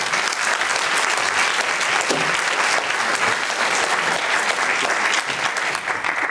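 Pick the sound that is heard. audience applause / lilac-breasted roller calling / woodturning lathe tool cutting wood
audience applause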